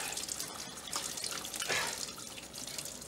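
Cold running water splashes steadily as someone washes under it, a continuous close rush with brief surges and no talk.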